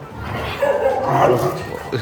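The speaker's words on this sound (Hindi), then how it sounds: "ये जो भौंक रहा है" A twelve-year-old dog barks in short, close bursts at dusk outdoors, the sound loud and continuous over roughly two seconds.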